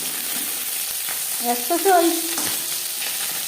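Puti fish frying with radish in a pan gives a steady background sizzle, with a brief utensil scrape and a short spoken phrase over it.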